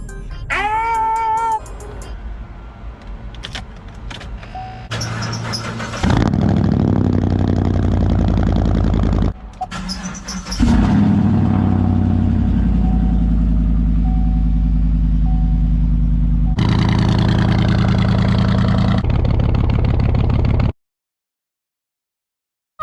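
A 2016 GMC Sierra single cab short-bed 4x4 pickup with 141,000 miles, its engine running loud and steady from inside the cab, broken by a few brief electronic chimes and a short pause near the end.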